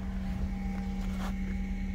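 A 2008 Ford Mondeo with a 2.0-litre, 145 hp petrol engine idles smoothly, giving a steady, even hum that holds without revving for the whole stretch.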